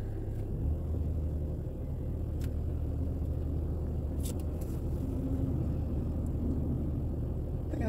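A car pulls out of a garage at the start of a drive to the market, a steady close engine rumble with faint clicks and no talk.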